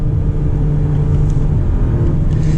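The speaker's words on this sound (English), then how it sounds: "Now the 4-cylinder turbo sounds a little coarse to me, like all 4 cylinders do." Acura RDX A-Spec SUV with a 4-cylinder turbo engine under acceleration: a loud, steady, coarse low droning rumble heard from inside the cabin, with no talk over it.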